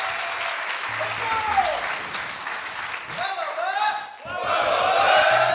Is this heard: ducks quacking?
no